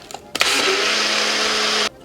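Countertop blender whirring through blueberry milk, a single loud steady motor roar starting abruptly after a few clicks and cutting off sharply after about a second and a half.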